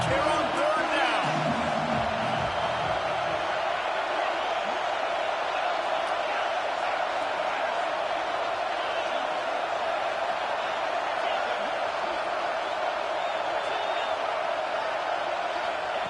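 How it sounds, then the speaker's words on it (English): A large Auburn football stadium crowd roars in a steady, sustained wash of cheering and noise on a third down, continuous and loud throughout with no break. "This Auburn crowd trying to conjure up a little magic here on 3rd down"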